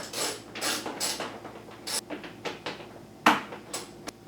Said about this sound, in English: I'm going to be using a T30 Torx with a 3-inch extension on my ratchet here to go ahead and remove the